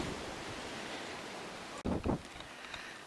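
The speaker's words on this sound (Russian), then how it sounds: "на улице сильный ветер" Strong, gusty wind blowing outdoors on a stormy day in the south, a steady broadband roar with a few louder buffeting bursts hitting the microphone near the end.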